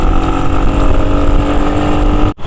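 A Royal Enfield Hunter 350 motorcycle engine while riding at speed on a highway, a loud steady droning hum with a buzzy vibration, cut off abruptly at the end.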